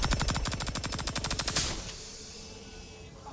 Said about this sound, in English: And then we've got the air-cooled machine gun, which is now Frost.